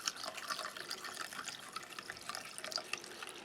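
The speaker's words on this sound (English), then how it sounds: "Now I'm going to fill the glass." Water poured into a small drinking glass for tea, a steady, quiet trickle and splash with faint, irregular drips throughout and no talking.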